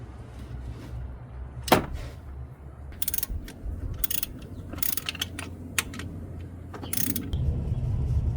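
Ratchet wrench loosening a 15 mm bolt on a Hummer H3 engine, a series of short ratcheting clicks in separate bursts, close up over a low steady background hum.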